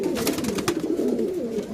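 Pigeons cooing in a group, where birds gathered together tend to fight; a steady, close chorus of overlapping low coos runs throughout with brief rustling accents.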